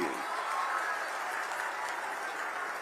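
An audience claps at a government development event in Ambedkar Nagar, a steady, moderately distant wash of applause that holds evenly from start to end.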